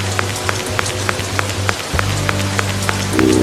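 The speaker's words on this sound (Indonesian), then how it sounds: "Ini hujan loh." Heavy rain pours down in a steady, loud hiss, with scattered distinct drops tapping on a surface and a low hum underneath.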